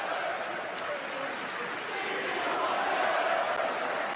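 Philly fans chant at a basketball game, a dense, steady roar of many voices held at an even loudness throughout.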